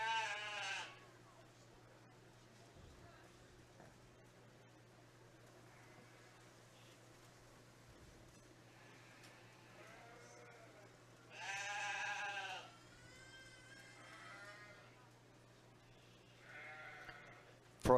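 Sheep bleat at a 4H sheep show, a few loud wavering calls at the start, middle and end over a steady low hum of the show barn.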